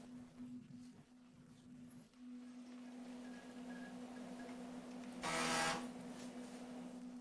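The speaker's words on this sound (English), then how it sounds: "Typical floppy disk reading noise." An old floppy disk drive reads a disk with a faint, steady mechanical hum and scattered soft ticks, followed by a brief louder grinding burst, close and quiet, with no talk.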